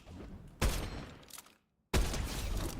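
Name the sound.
sniper rifle shots in a video game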